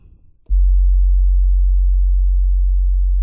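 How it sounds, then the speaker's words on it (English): A single long, deep 808 bass note booms in after a brief soft noise and sustains steadily, very low and subby, alone. "let's try this long 808"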